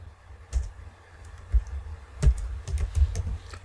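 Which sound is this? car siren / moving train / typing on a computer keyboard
typing on a computer keyboard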